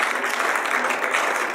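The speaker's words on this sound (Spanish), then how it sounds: "un fuerte aplauso para la licenciada" A brief burst of steady audience applause for a speaker at an educational round-table panel, dense clapping filling the whole moment.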